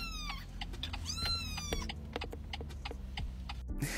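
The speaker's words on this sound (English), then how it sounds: "this is my new cat" A cat meows several times in quick succession, rising and falling cries that are close and clear, followed by a sudden burst of noise at the end.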